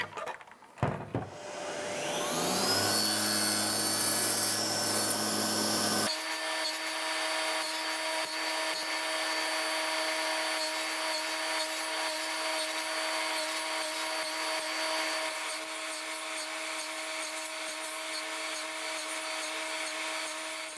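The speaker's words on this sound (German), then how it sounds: "Diesen Bereich dazwischen sägen wir jetzt einmal aus" A handheld circular saw spins up with a rising whine and then cuts steadily through wood, a loud, close, continuous buzzing drone that holds for about twenty seconds with no talk.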